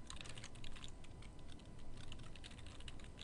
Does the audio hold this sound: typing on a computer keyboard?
yes